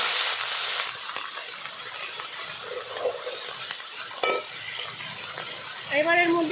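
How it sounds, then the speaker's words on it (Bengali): Onion paste frying in a pan is stirred during a Bengali doi katla preparation: a steady sizzle with soft scraping strokes, one sharp clink of utensil on pan near the middle, and a brief higher scrape toward the end. "পেঁয়াজ বাটাটা প্রথমে একটু নেড়ে চেড়ে নেব"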